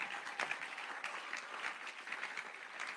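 A church congregation at a youth gathering with a prophet claps together, a steady patter of many hands held at moderate distance, with no voices over it.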